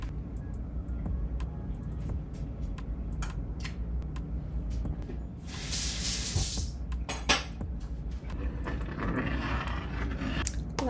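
A butter knife scraping crystallized honey in a jar, close and fairly faint, with a steady background hum and a brief louder burst of scraping partway through.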